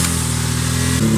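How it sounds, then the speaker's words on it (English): A Toyota Lexus V6 car engine, newly fitted with a replacement alternator, runs with a steady, close mechanical hum, then shifts briefly in pitch near the end. "Finally, we're going to start the engine."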